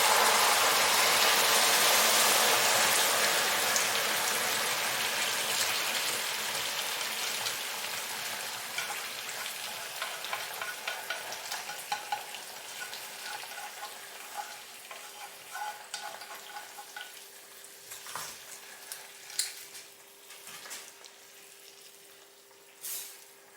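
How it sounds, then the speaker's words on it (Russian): Hissing, crackling sizzle as caramel is poured onto apples in a pot, loud at first and gradually fading, with scattered pops and a faint stirring clink near the end. "Выливаю карамельку потихонечку."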